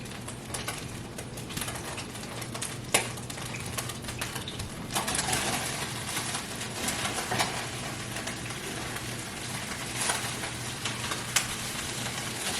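Vegetables sizzle and crackle steadily in a pan greased with oil in place of coconut oil, a continuous frying hiss with a few clicks and utensil taps, fairly close and moderately loud with no talking.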